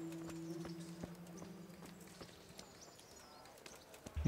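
Horse hooves clip-clop in the medieval video game Kingdom Come: Deliverance, a steady close rhythm of hoofbeats over a low ambient hum, ending in a louder thump.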